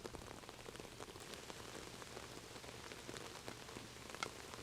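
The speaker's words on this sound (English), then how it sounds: "Can hear that rain just coming down." Steady rain falls on a disc golf course during a tournament round in Turku, a constant close hiss of drops on surfaces with no voices over it.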